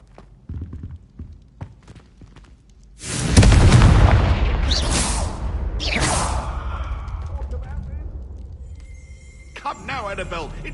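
A Confringo blasting spell goes off in a Hogwarts video game, a sudden loud boom with a broad burst that rolls on as a rumbling blast, with quieter bursts and talk before and after.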